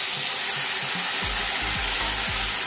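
Three tomatoes drop into a pan of fried ingredients for radish chutney, setting off a loud, steady sizzle, with a few soft scraping stirs breaking through it.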